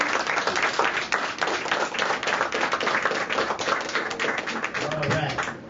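A crowd applauds to welcome speaker Bobby Hemmitt at a gathering in Columbia, South Carolina, steady dense clapping from many hands that carries on throughout at moderate volume.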